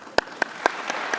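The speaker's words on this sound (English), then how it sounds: "One person clapped." A lone person in an audience claps about five times, evenly spaced sharp slaps that soften toward the end, over quiet room tone.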